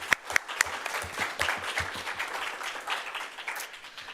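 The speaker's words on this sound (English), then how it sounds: "give a round of applause to Senator Hatch and Annie Wassinger." A room of people at a student senate meeting gives a round of applause, a steady patter of many hands clapping at moderate volume, with a few sharper close claps near the start.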